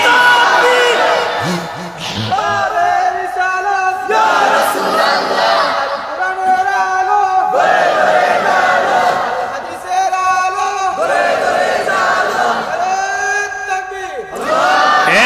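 A large religious gathering roaring the takbir chant back in unison during a Bangla sermon, repeated swelling waves of massed voices with a leader's call between them.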